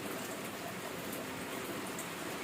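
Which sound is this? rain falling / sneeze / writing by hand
rain falling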